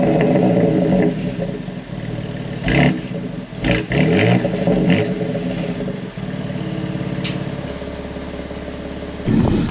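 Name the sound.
2021 BMW X3 M Competition exhaust sound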